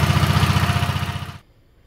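Engine of a 1957 Wheel Horse RJ35 garden tractor runs with a rapid, pulsing chug, close and steady, then abruptly cuts out and falls silent.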